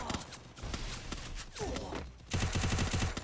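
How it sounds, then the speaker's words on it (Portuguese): Video game gunfire in a four-versus-four shooter match crackles in quick bursts, ending with a loud rapid volley of shots close up. "Dá um tiro, pula pro outro lado, Clay."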